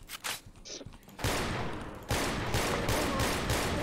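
Guns fire in Left 4 Dead 2 zombie-survival gameplay, a few scattered shots followed by dense sustained rapid gunfire, loud and continuous, with a player's voice faintly mixed in.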